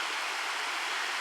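A small stream rushes past a culvert near a waterfall, giving a close, loud, steady broadband wash of flowing water with no pauses.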